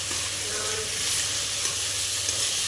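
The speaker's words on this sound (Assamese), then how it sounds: "বিলাহী গ্ৰেভি বনাই আছো এতিয়া প্ৰথমত গ্ৰেভিটো বনাই লম এনেকৈ" Tomato gravy for chicken sizzles loudly in a pan at a party cooking setup, a dense continuous hiss with faint clinks, close and steady throughout.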